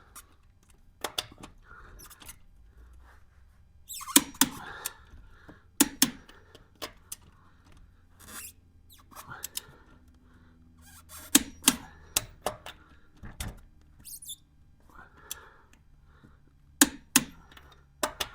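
A torque wrench tightening the rear wheel lug nuts on a 2002 Honda to 80 foot-pounds in a crisscross pattern: a series of sharp, close clicks in short clustered bursts separated by quiet gaps.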